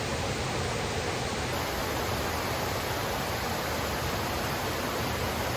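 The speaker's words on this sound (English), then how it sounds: "Here's a little bit of waterfall action on the Hunt Trail." A waterfall on the Hunt Trail up Mount Katahdin rushes in a dense, unbroken roar, loud and close, with no voices over it.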